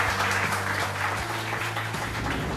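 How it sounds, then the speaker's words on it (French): Applause for kitchen staff in a Lebanese restaurant in Strasbourg, a small group clapping in a room with a steady low hum beneath, continuous and moderately loud. "Vous pouvez les féliciter et même les applaudir."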